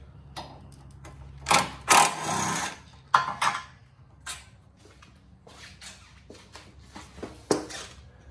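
A socket wrench works bolts loose on a Fiat 500 Abarth during a front mount intercooler install, a series of close ratcheting clicks and sharp metallic bursts in an irregular rhythm.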